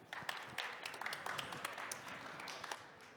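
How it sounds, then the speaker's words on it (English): A fairly faint audience at a Ukrainian startup showcase applauds a presenter, with scattered sharp claps standing out from a steady wash of clapping over about three seconds. "give a huge round of applause to Igor from M1 Project"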